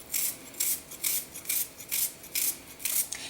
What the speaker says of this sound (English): I do chop my onions this way